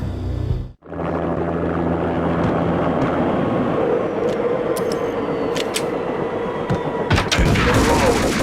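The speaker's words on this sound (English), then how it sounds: "An armed helicopter just landed on the manor grounds." Armed helicopter landing in the Max Payne video game: a steady, loud rotor and engine roar fills the scene after a brief cut, holding constant with occasional sharp clanks and bursts layered on top.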